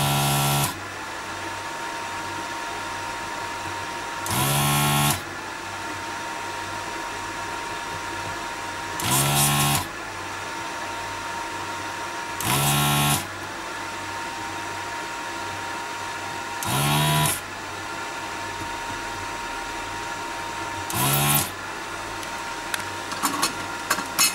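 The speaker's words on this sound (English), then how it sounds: "we've actually got a desoldering station and this sucks the solder off" A desoldering station's vacuum pump, used to pull solder off a tumble dryer circuit board, fires in short loud hissing bursts of roughly a second, repeating about every four seconds over a steady high electrical whine, close and without talk.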